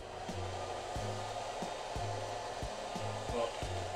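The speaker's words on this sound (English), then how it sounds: "now let's try out Roomba" Roomba robot vacuum running on its side with pineapples in the way: a steady, loud whirring motor drone broken by regular dull knocks roughly every second.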